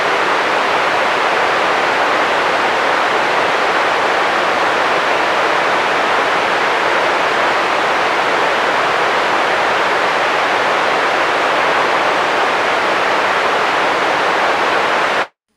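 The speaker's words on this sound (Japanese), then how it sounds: "ピンクノイズを再生。" Pink noise test signal, band-limited roughly 500 Hz to 2 kHz at about -12, plays for acoustic room measurement as a steady, even hiss that holds constant for the whole stretch and then cuts off abruptly.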